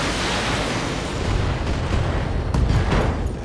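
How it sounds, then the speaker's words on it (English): An AC-5 autocannon blows up in the BattleTech video game, a broad roaring blast that swells and rumbles for several seconds, loud and close with no speech. "AC-5 explosion. That hurts."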